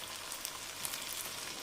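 Chicken yakhni stock poured into a hot pot for pulao, giving a steady close sizzle and bubbling hiss that holds evenly throughout with no talk.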